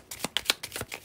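Tarot cards are shuffled by hand in a quick run of about six crisp, rhythmic riffling snaps within a second, close and distinct with no talking.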